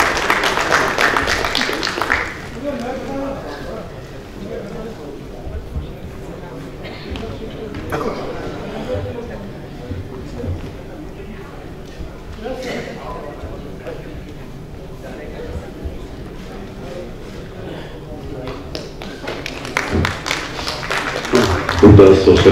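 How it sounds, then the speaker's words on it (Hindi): Applause from an auditorium audience at a mushaira honouring guests, bursts of clapping rising at the start and again near the end, with a hall's murmur and some talk between. "जोरदार तालियों से उनका इस्तकबाल करें।"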